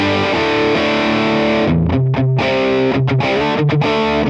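Electric guitar played through a Laney LV300 Twin amp on its Drive 2 channel gives a loud, distorted tone, with sustained chords broken by short choppy stops.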